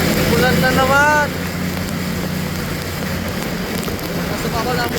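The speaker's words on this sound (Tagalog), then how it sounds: "Bugso ang ulan." Heavy downpour drumming steadily on a vehicle during a delivery run, a dense continuous patter with engine rumble beneath and someone talking briefly near the start and end.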